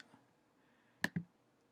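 Two quick mouse clicks in close succession on a MacBook while working in LTSpice circuit software, crisp and near in an otherwise quiet room.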